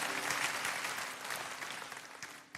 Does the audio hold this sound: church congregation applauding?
yes